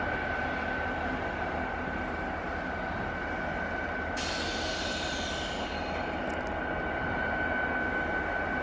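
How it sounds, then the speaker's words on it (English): A train pulling out of the old depot yard at L'Anse with a load rolls past in a steady, loud rumble and grinding wheel noise, with a hiss of brakes or air partway through and no talk. "Everybody loves the train, right?"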